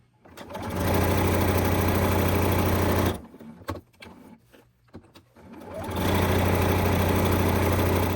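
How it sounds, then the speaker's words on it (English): A sewing machine runs loud and steady while stitching a quilting line on a small four-patch fabric coaster. It stops for a few seconds of handling noises and clicks, then starts up and stitches again at the same pace. "Lift my needle, lift the presser foot, spin it around, and do the next line."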